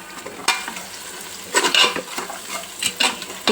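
Home-ground chili powder stirred into hot oil in a pan for mutton head curry, giving a steady close sizzle broken by several sharp utensil scrapes and clinks against the pan, with no talking.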